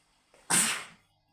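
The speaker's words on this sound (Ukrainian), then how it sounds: "Ой, чхать хочеться." A single sneeze, close and sharp, preceded by a brief quick inhale and fading out after about half a second.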